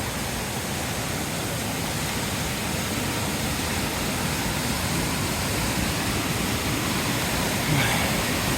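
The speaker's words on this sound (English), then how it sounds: "Dunn Falls, our water source and our water crossing." A steady, unbroken roar of Dunn Falls on the Appalachian Trail fills the scene, loud and close with no pauses or other sounds.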